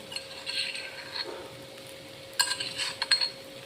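Utensils clink and scrape against a pan as a roasted, pounded mix of chillies, peanuts, garlic and cumin is stirred and sautéed, in two bursts of close metallic clatter separated by a quiet stretch.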